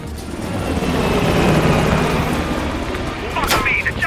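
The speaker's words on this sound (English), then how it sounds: "The chopper got away!" Helicopter escaping in the video game Call of Duty: Black Ops Cold War, a loud close rotor roar with dense thumping that builds and holds, joined by a sharp burst near the end.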